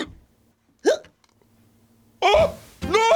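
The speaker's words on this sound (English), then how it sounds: "Oh, no! You gave me your hiccups!" Sharp hiccups, two or three abrupt voiced gulps from a puppet comedy sketch, separated by silence, with a faint laugh-like tone between them.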